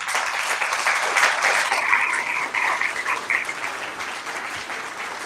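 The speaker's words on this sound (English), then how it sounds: "A round of applause for everybody that came" A room of people clapping at a candidate forum in Wallsburg, Utah, a dense steady round of applause lasting several seconds and easing slightly toward the end, heard from within the crowd.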